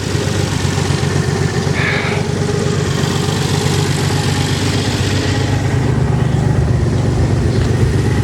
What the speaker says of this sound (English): The idle is a little bit iffy, but granted it still has moisture in there, it's burning off.